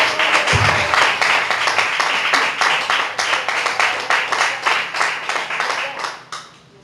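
Church congregation clapping in a strong, rhythmic unison beat, loud and close, carrying on for about six seconds before fading out.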